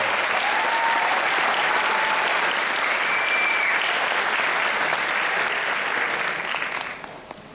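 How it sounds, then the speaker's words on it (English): Sustained, dense applause from a large audience at an 8th grade graduation ceremony, steady and loud throughout before tapering off at the very end. "Let's give them another round of applause."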